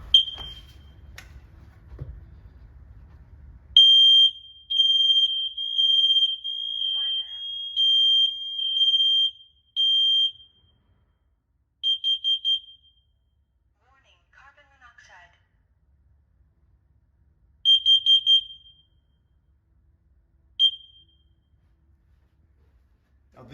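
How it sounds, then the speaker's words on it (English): Dual carbon monoxide and smoke detector under test, sounding loud shrill beeps in long bursts followed by shorter groups of three, after a brief low rumble at the start. "This is a dual detector, which means when it rings, it's going to test for carbon monoxide and also for smoke."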